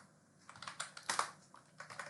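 Short burst of typing on a computer keyboard as a Linux command is entered, a quick run of soft close keystrokes with a few slightly harder taps, no voices.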